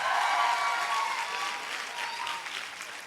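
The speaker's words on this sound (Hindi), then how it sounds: "हम सबके chief guest doctor Amit Dubey गुरु जी के जोरदार तालियां होनी चाहिए।" Loud, dense applause from the audience for the chief guest, Dr. Amit Dubey, at a direct selling meeting, sustained across the whole moment and easing off slightly toward the end, with faint whistles in the crowd.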